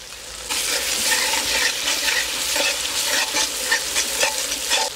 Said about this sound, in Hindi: ये जो प्याज हैं इनको हमने मुकम्मल ब्राउन करना है